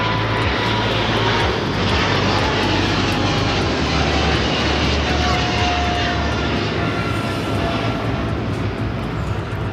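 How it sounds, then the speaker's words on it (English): A China Southern Cargo Boeing 777 freighter takes off from Los Angeles bound for Shanghai, a steady, loud broadband engine roar that holds throughout with a faint voice underneath. "That is China Southern Cargo 2522 taking off to Shanghai on the 777 freighter"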